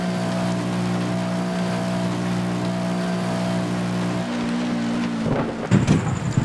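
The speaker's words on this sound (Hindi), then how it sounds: "आप देख सकते हैं बारिश हो रही है गेम के अंदर" Steady rain and rumbling thunder in the Traffic Rider motorbike game. A continuous droning motorbike engine runs under the rain, and a few louder bursts come near the end.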